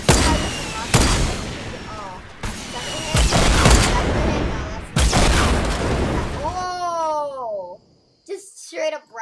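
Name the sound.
rifle gunfire in video game Fortnite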